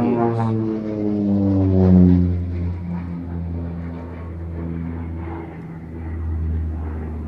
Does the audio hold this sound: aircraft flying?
yes